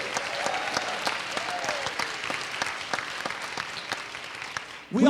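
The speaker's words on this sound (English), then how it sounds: "Please give a nice round of applause for our volunteers." An audience at the Sedona Performing Arts Center applauds for volunteers with steady, moderately distant clapping and a few sharp claps standing out, and a voice cuts in at the end.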